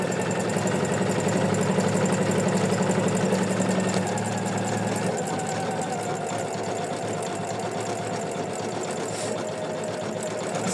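An embroidery machine stitches a tree design in the hoop, its needle running in a fast, steady mechanical chatter that holds close and even throughout.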